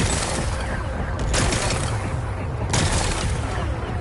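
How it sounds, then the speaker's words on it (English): Explosive charges blasting away rocks to expose a power cell in Horizon Forbidden West on Ultra Hard, heard as a dense, continuous roar of rumbling blasts with sharper bursts around the middle and again near the end. "Gotta blast away some rocks."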